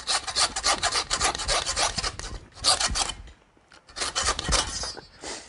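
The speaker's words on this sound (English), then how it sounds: "this is one place where I'm going to use my trusty saw" A hand saw rasps back and forth through a deer's neck vertebrae during skinning, cutting in steady, close, loud strokes with a brief pause near the end.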